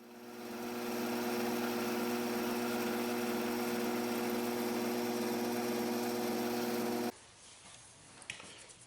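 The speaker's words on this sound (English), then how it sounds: "I'm using the boring tool to open up the sleeve bearing that we pressed in" A lathe boring tool cuts inside a pressed-in sleeve bearing for a spindle, giving a steady machining drone with a strong tonal hum for about seven seconds before it stops abruptly, leaving a quieter background with a few small knocks.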